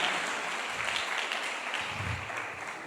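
A church congregation claps for the Redeemer during a Spanish-language Bible teaching service, producing a steady, moderately loud wash of applause that carries on without a break.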